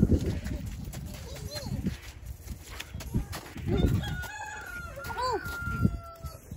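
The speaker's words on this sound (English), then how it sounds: "You got a chicken?" Chicken clucking and crowing, handled by people at home at the end of winter, with several short calls rising over steady background noise while people talk close by.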